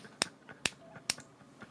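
Three sharp, evenly spaced claps mark a missionary unit's footsteps in the strategy game Civilization 6, crisp and fairly faint, with softer ticks between them and no talking.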